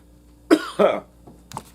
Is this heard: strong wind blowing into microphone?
no